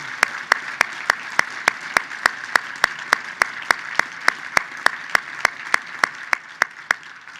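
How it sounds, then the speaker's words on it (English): An audience applauds at the RISE Gala 2021, a steady wash of crowd clapping with one sharp clap ringing out at a regular, even beat throughout. "we need to give them a thunderous round of applause"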